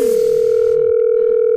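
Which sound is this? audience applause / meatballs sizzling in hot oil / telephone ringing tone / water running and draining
telephone ringing tone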